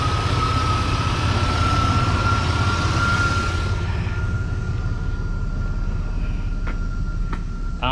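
A Chevrolet Silverado truck engine runs steadily at close range, a deep, even rumble with a faint tonal whine; the upper hiss drops away partway through while the low drone continues.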